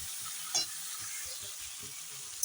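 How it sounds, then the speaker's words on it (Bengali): Jackfruit and chickpeas fry in a hot pan while being stirred, giving a steady close sizzle with a couple of sharp clanks of the utensil against the pan. "এখন কাঁঠাল দেওয়ার পর ভালো করে ভাজা ভাজা করে দেব"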